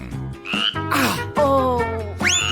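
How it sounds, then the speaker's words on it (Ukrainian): A cartoon frog in a children's food-challenge show croaks several times in quick succession, loud and close, each croak tonal and bending in pitch, with no talking. "Твоя жаба знову поскакала."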